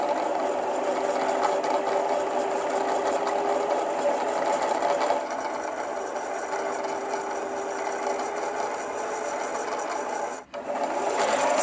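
A home sewing machine's motor runs steadily while winding thread onto the bobbin, a continuous close whirring hum with a faint mechanical ticking, briefly dipping near the end before resuming.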